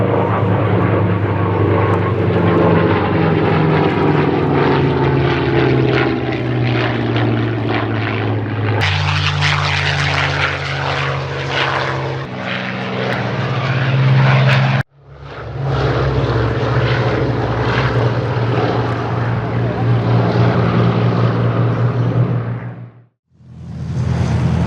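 A propeller aircraft passes during a flying display at the Sywell Airshow, a loud, steady, droning engine roar lasting the whole stretch, with shifts in pitch and tone as it passes, then brief cutoffs near the end.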